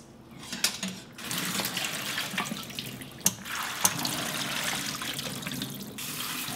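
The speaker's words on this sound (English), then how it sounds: "My strainer is small, so I'm going to wash this first." Soybeans being rinsed in a small strainer under a running kitchen tap, made for Korean fermented soybean paste; a steady broadband rush of water with a few brief clatters, close by and continuous, no talking.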